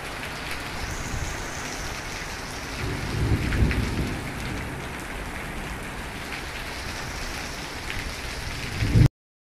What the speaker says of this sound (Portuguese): naquele dia não deu para terminar, que a chuva não deu trégua